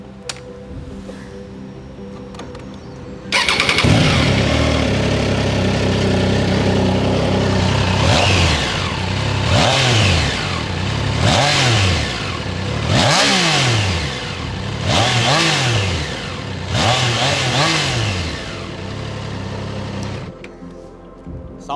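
A Triumph Trident 660 three-cylinder motorcycle idles, then its exhaust is revved hard in a series of about six rising and falling blips, loud and close, before dropping back to idle.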